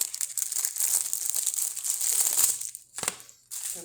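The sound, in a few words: plastic wrapper being torn off microwave popcorn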